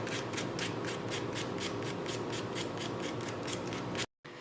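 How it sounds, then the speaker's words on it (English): Wooden intarsia pieces being hand-sanded along their edges with 220-grit sandpaper: a close, steady run of quick rasping strokes in an even rhythm, with no talking. "The next step was to hand sand all the edges of the pieces"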